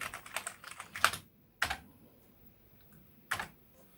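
Typing on a Commodore Amiga A500 keyboard during a repair test: a quick run of clacking keystrokes, then a few isolated key presses spaced apart, close and fairly quiet.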